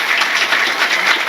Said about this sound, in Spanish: Ahora yo quiero que le demos un aplauso de felicitación por este nuevo hijo que ha parido.